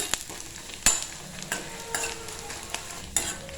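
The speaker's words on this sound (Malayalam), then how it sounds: "എന്നിട്ട് നമ്മുടെ തേങ്ങ മീഡിയം ഫ്ലെയിമിൽ വെച്ച് നന്നായിട്ടൊന്ന് വറുത്തെടുക്കുക" Grated coconut being stirred and dry-roasted in a pan over a medium flame, with sharp scraping strokes of the spoon at irregular intervals over a soft, steady sizzle, close and alone with no voices.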